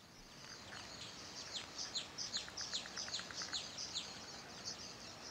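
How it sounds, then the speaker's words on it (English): Quick, bright bird-like chirps from a Windows 98 game, a run of rapid tweets rising over a faint hiss, fairly soft and with no talk over them. "Sounds like birds."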